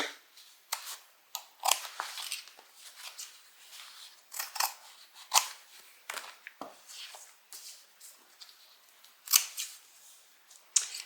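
Fabric scissors snip out the center of a sewn zipper pocket on a hobo shoulder bag, a series of close, crisp cuts in uneven bursts with short pauses between, no voices.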